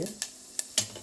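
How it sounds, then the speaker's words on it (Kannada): Spices roasting in hot oil in a pan for potato bhaat give a soft sizzle, punctuated by three or four crisp spatula scrapes and taps at uneven intervals. "ಇದನ್ನ ಮಸಾಲೆನ ಹಾಕಿ ಹುರ್ತಾಯಿದ್ದೀನಿ"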